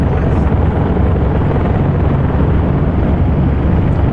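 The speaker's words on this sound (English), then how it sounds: "I think the plane might be a little bit loud." Engine noise of a Vickers Vimy biplane in the game Flight Simulator X, a loud, steady low droning roar that fills the whole stretch with no breaks or voices.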